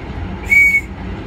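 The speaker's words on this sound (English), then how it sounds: "Whistle is also provided to attract attention." Safety whistle from a ferry life jacket: one short, shrill, loud blast in the middle, over a low steady background hum.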